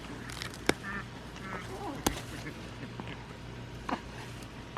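Ducks in a backyard garden give a few scattered, fairly faint quacks and honks over quiet outdoor ambience, with sharp brief calls standing out.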